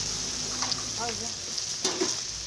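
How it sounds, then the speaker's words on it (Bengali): Yogurt goes into fried spices in a pan, giving a steady close sizzle with a brief burst of crackling as it hits the oil; a voice speaks faintly under it. "এই যে দেখুন আমি দই দিয়ে দিচ্ছি।"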